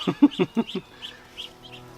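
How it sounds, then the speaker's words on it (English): Three newly hatched ducklings with their mother duck in a Portuguese village give a quick burst of four or five close, high peeping calls, followed by a few fainter, scattered peeps. "the three little newly hatched ducklings"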